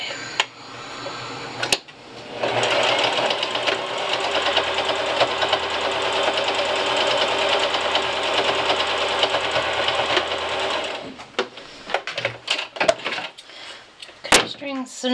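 A sewing machine stitches a prefold cloth diaper into a contoured shape, running in a steady continuous burst for several seconds, then stopping, followed by a few short clicks and handling noises.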